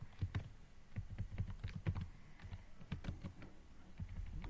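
Computer mouse clicking while working in a stock-management spreadsheet, a quiet close series of light plastic clicks in irregular quick groups.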